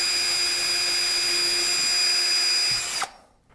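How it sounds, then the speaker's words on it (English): A power drill runs steadily while boring pilot holes near the edge of a wooden board for a birdhouse, a loud continuous whine that stops abruptly near the end, leaving quiet. "I use my drill. These pilot holes will just help keep the wood from splitting"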